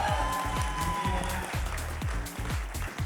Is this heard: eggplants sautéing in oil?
no